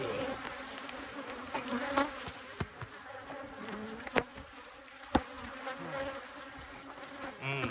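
Bees from a swarmed hive buzz in a dense, continuous drone close around, with sharp individual wingbeats darting past now and then.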